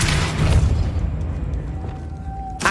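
A Depulso spell cast in the game Hogwarts Legacy lands as a sharp, booming burst, followed by a decaying rumble and a brief thin ringing tone before another hit at the end.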